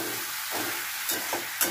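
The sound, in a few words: sautéing spice paste in a pan for fish curry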